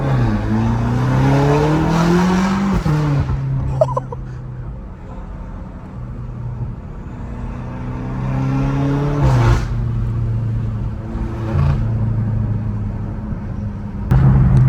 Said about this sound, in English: love the turbo noises on this thing